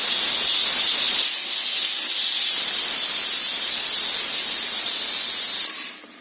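A pressure cooker holding soaked, salted chickpeas vents steam in a loud, steady close hiss that holds for several seconds and then quickly dies away.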